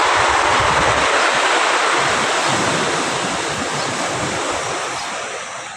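Sea waves crash on the shore at Ilijan, Batangas, making a loud, steady roar of surf with wind that eases slightly toward the end.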